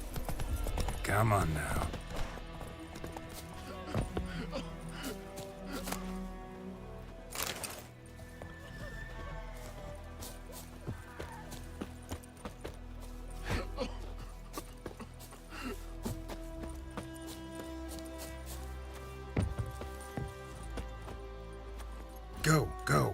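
Clip-clop hoofbeats of a horse ridden in The Witcher 3: Wild Hunt, a steady rhythmic trot under game music and ambience, with a rider's brief spoken commands and an occasional whinny.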